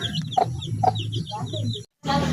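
Newly hatched chick peeping on a small backyard farm, several short high chirps in a quick irregular series, close and fairly clear over a low background hum, then a brief silence before the peeping resumes.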